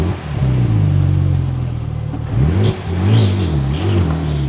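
A Porsche 997 911 Turbo with no working brakes being driven out of a garage, its engine idling loudly up close, then revving in a couple of short blips before settling back.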